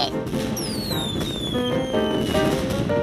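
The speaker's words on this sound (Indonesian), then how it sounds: "Lihatin tuh kembang apinya." Firework whistles rise and fall over a dense crackle of bursts in Sakura School Simulator, with game-like tonal chimes and bright bangs layered in a busy, continuous display.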